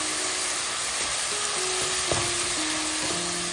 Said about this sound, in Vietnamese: Phi thơm hành tím và cho phần thịt đã ướp được nửa tiếng vào và rang cho thịt là vàng thơm